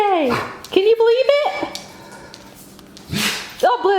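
A pet puppy whimpers in high, wavering cries that rise into short yips near the start and again at the end, mixed with close talk from a person speaking affectionately to it indoors.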